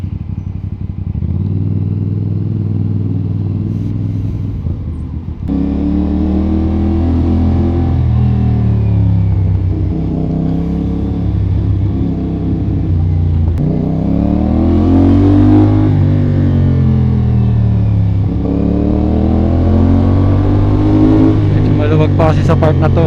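A CF Moto 450 SR-S motorcycle with a changed aftermarket exhaust revs and accelerates loudly through repeated gear pulls, its note rising and dropping steadily while riding in traffic, close and continuous throughout.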